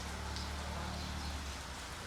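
Steady, even hiss of light rain falling, a continuous soft wash with no breaks.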